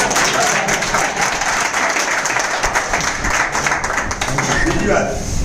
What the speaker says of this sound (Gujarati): એના માટે તાળી તો પાડો.